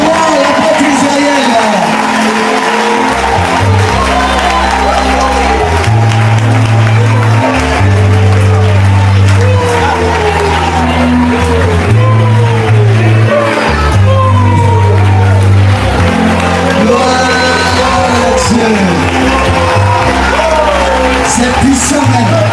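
A church congregation cheers, shouts and applauds to acclaim apostle Israël. The loud, continuous crowd noise sits over a pounding, rhythmic bass-heavy music backing.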